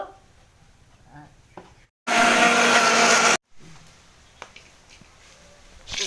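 Spices ground in an electric mixer while cooking a winter duck meat dish: one loud, steady whirring burst of about a second and a half, with quiet kitchen background before and after.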